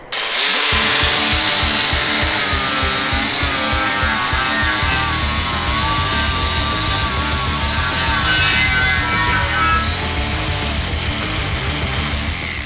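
A Bosch GWX 18V-15 SC cordless angle grinder spins up sharply and grinds continuously, a loud sustained whine with rough rasping texture that wavers slightly in pitch across the run.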